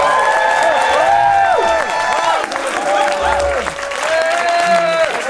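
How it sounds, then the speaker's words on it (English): Clapping and cheering from an audience at a poet's first headline show, steady and fairly close, mixed with overlapping voices and whoops. "so can we like give a big round of applause?"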